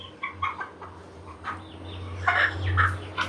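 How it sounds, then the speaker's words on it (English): Chickens on a homestead in Mexico give a short run of close, loud clucks and squawks over a low background hum. "Because I'm giving the chickens a shot."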